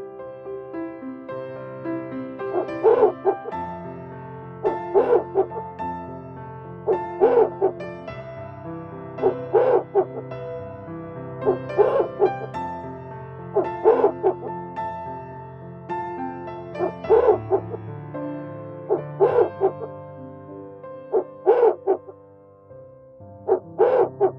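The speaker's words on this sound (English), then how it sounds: "Owl." An owl hoots in a steady repeating pattern, roughly a dozen clear, evenly spaced calls standing out alone against a quiet background.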